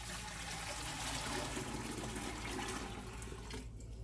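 Water glugs and splashes steadily out of a gallon jug for a few seconds, a continuous close pouring rush in a home kitchen with no talking over it.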